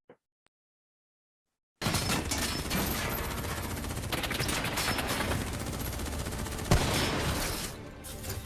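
A sudden, dense burst of rapid gunfire plays back from a video, sustained and loud for several seconds like machine-gun fusillade, with no voices over it.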